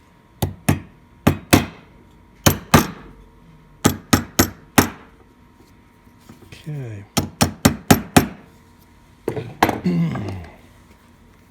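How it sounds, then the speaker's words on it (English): A hammer taps a part of an antique mortise pocket door lock set on the edge of a workbench, sharp metallic knocks in quick groups of two to four, close and loud, with a brief spoken word between. "I'm going to set it on the edge of my bench and tap it with a hammer."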